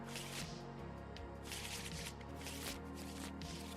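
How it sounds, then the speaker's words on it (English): Card decks are shuffled in a Star Citizen Squadrons card game, a series of quick, close riffling bursts repeating in short rhythmic runs over a faint background. "And what we're going to do is we shuffle our decks."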